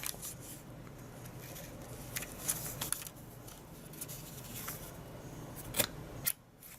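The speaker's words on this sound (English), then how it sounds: "you can tell that the paper's in there when it cuts" A CADY corner rounder punch bites through a paper corner, giving faint crisp clicks and snips over steady background hiss, with a sharper cut near the end.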